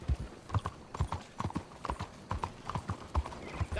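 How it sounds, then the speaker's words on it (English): Horse hooves in Red Dead Redemption 2 approach at a steady clip-clop, a regular rhythm of distinct near footfalls with a faint whinny hint, heard on their own. "I have my bond level high enough with this horse to have it come from that far away."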